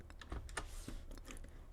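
Computer keyboard keys clicked in a quick series of light taps, close and faint, with no talking.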